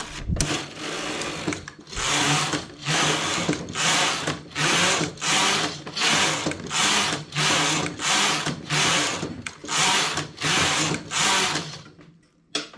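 Knitting machine carriage sweeping back and forth across rows while working a garment toward the armhole, giving a steady series of roughly a dozen rhythmic mechanical whirring passes with brief pauses between them, close and alone.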